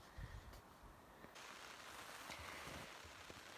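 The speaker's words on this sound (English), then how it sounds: "Well, it's raining." Steady rain patters on a campsite tent in the Canadian wilderness, a soft, even wash of drops with a few louder taps, no voices.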